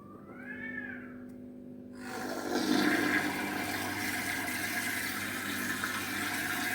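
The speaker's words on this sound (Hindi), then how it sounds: "मैं मोटर ऑन करूँगा, देख खुद ही पानी खींचेगा" An electric water pump motor switches on and pumps water into a tank, giving a steady broadband rushing and whirring that swells after a brief whistling squeak and then holds constant.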